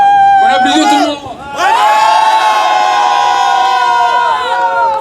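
Crowd at a rally against Boko Haram cheering and shouting loudly, a strong burst that dips briefly then swells into sustained whooping.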